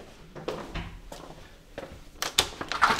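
Front door of a flat opening at the end of a front corridor, a soft clunk and handle rattle followed by brighter latch and hinge noises, close and moderately quiet.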